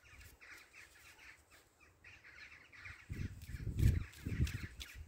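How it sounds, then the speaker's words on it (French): Crows caw in a few loud, harsh bursts that grow stronger toward the end, over faint hiss, with no talk. "Et les corbeaux."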